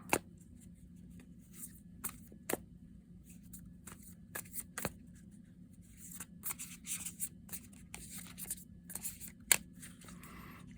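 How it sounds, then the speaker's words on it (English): A tarot card deck is shuffled by hand in a quiet room, with soft, irregular riffling and snapping bursts scattered across the stretch. "A little bit of a shuffle"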